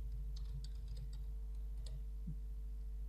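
Computer keyboard typing, faint and close: a quick run of light key clicks in the first two seconds over a steady low electrical hum, then a pause with a single soft click.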